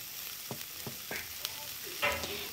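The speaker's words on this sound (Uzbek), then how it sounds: "Piyozimizni ozroq yog' solib, tovada qizartirib qovurib olamiz." Onions frying in a little oil in a pan for an Uzbek spinach dish, a soft steady sizzle broken by several sharp stirring scrapes and clinks, close by with no talking.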